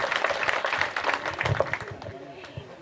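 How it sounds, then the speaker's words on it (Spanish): Audience applause for families at a gathering, a steady patter of many hands clapping at moderate level while a voice speaks over it throughout. "Por favor, un aplauso también para esas familias que están aquí atrás."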